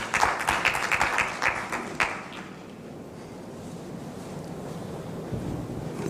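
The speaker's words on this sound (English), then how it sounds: "Please give him a round of applause." Audience clapping at a tourism expo seminar, a burst of applause lasting about two seconds before fading into rumbling room noise.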